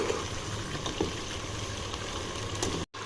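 Onions frying over high heat for homemade chicken fries, a steady close sizzle and bubbling hiss that runs unbroken, with a brief dropout near the end.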